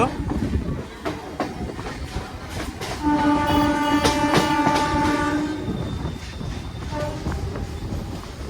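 A Howrah–Tarakeswar local passenger train rumbling along the rails with rhythmic clacking, and a long horn blast sounding from the middle of the clip.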